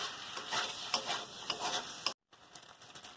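Potato and pointed gourd are stirred and sautéed with spices, giving a crackling sizzle with repeated scraping stir strokes. The sound is close and fairly soft and stops for a moment near the end before the frying resumes.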